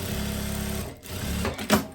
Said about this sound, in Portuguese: Estou fazendo uma costura de um pé de máquina